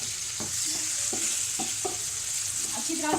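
Spoon stirring tomato paste into onion and garlic fried light golden in a pan, with a steady sizzle beneath soft repeated scraping and clicking strokes, close and fairly loud.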